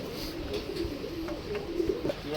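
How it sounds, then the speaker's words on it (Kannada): Birds kept for sale coo softly and repeatedly at close range, with low rounded calls rising over a faint background murmur and no speech. "ಇವೆಲ್ಲ ಸೇಲ್ಗಿರೋಂಥ ಅಕ್ಕಿಗಳು ಸರ್"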